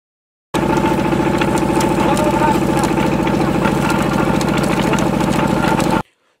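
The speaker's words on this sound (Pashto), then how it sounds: "څوک د شربت د جوړولو په پار ګني په ماشین کې ورکوي" The engine of a sugarcane crushing machine runs at a loud, steady, rhythmic chug, close by, starting abruptly and stopping abruptly after about five and a half seconds.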